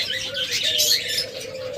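Pet budgerigars, cockatiels and lovebirds in a shop chatter with a brief burst of close, high chirps and twittering.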